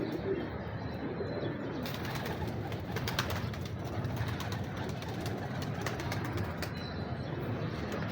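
Soft pigeon cooing and light chirps over a steady outdoor background hum, with occasional wing flutters, continuous throughout.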